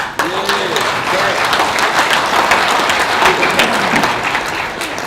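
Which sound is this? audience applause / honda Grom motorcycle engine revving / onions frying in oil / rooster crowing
audience applause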